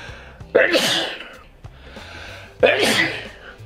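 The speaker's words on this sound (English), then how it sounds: "3 sneezes exactly though." During a nasal swab COVID test, a person lets out two loud, close sneezes about two seconds apart, each preceded by a sharp inhale, with quieter breathing and a brief catch between them.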